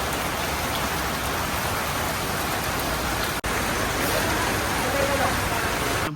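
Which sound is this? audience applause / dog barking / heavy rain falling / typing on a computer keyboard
heavy rain falling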